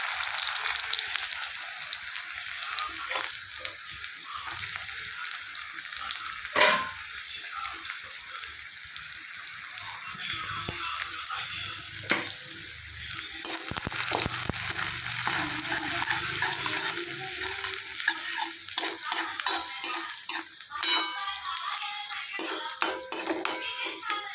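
Garlic, cumin and onion frying in a pan for a village-style ambadi leaf dish, with a steady sizzle throughout, occasional utensil clinks and stirring, and brief talk in places.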